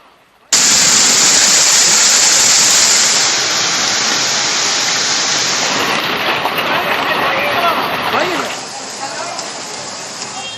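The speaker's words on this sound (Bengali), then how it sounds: "বাঁকুড়ার খাতরায় ঝড় বৃষ্টি" A storm with rain and hail in Khatra, Bankura, roars as a loud, dense wash of falling rain that starts abruptly and continues steadily, easing slightly toward the end.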